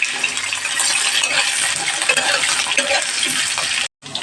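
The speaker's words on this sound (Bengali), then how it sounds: "আলুটাকে একটুখানি ভালো করে ভেজে নেবো।" Potato pieces with bay leaves fry in a pan of hot oil for Bengali soya curry, giving a steady, close crackling sizzle with occasional clinks that cuts off abruptly just before the end.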